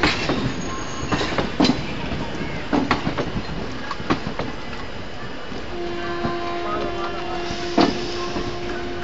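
Back-to-back Indian passenger trains hauled by WAP4 electric locomotives roll past at close range, with a steady rumble, repeated clickety-clack wheel impacts over rail joints and a sustained wheel squeal, and no talking.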